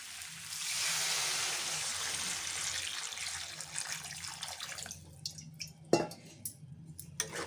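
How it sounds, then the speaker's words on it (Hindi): Water is poured into a pan of moringa curry as a steady splashing stream for several seconds, then gives way to scattered drips and light clinks close by. "और इसमें पानी डाल दूंगी।"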